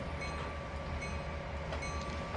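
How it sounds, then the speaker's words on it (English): A train rolls along the track in the Trainz 2019 video game, a steady low rumble with light rail clatter, faint and even over a short stretch. "hey, the train's coming"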